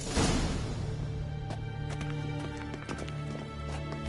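Hooves clop in a quick steady rhythm as a horse gallops in The Witcher 3, with a soft tonal music bed underneath.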